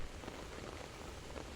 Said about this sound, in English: Knock, knock, tiny raindrops fall.